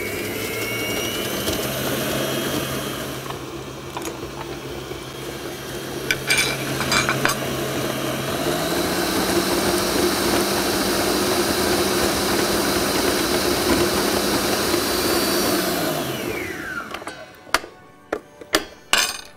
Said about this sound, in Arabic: وهضربهم مع بعض لحد ما الملمس بتاعهم يبقى هش.